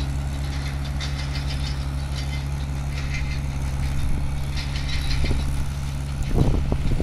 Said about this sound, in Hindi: तो आप देख सकते हो ट्रैक्टर को काफ़ी अच्छा चल रहा है।